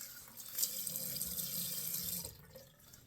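Tap water runs steadily into a sink as an alum block is rinsed under it, a close, continuous hissing splash lasting a few seconds before tapering off.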